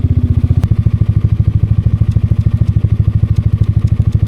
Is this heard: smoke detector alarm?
no